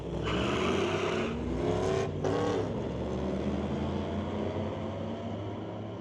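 A 1985 Firebird and a 1998 Camaro drag race at a street-legal Friday night event at Mission Raceway Park, their engines a distant roar with a quick gear-change break near the start, then a steady, fading drone.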